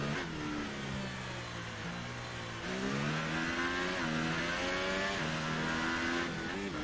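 A Formula 1 car in F1 2018 screams through a flying lap, its engine note rising in pitch through the gears with brief drops at each shift, loud and continuous, with no talking.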